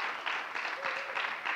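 A church congregation applauding at a pastoral installation, a steady wash of many hands clapping in a reverberant hall for a short burst.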